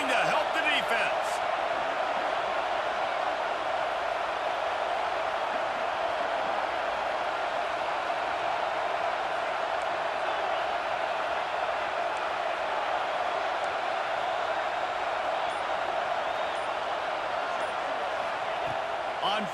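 A stadium crowd in a college football video game keeps up a loud, unbroken roar for the whole stretch, with no breaks or distinct peaks.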